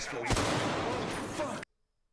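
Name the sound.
sniper rifle shot in Call of Duty DMZ video game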